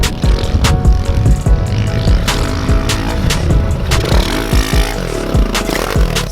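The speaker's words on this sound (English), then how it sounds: "They're riding freaking pit bikes" Kawasaki KLX110 pit bikes ride on a dirt track, their small engines buzzing and revving up and down as riders pass close. Throttle blips and gear changes overlap, with raspy whines rising and falling nearby.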